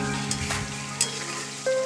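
Spice paste and masala fry in oil for a yogurt chicken curry, cooked until the oil separates, giving a close, steady sizzle with brief spatula scrapes.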